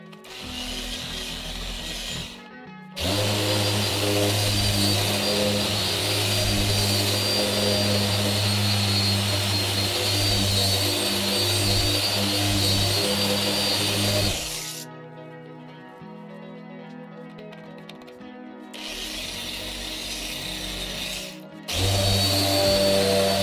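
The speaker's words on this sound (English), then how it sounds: "just finish polishing this side out to match this" A dual-action (DA) polisher works a faded car pillar, a loud steady motor whine with a low droning tone, cutting out briefly and then restarting at lower and higher pitches.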